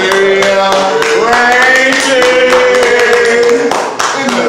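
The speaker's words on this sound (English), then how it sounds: "Y'all snap it up and clap it up." Loud, close clapping from the audience at a live spoken word night in a café, continuous and lively for several seconds with voices and whoops mixed in.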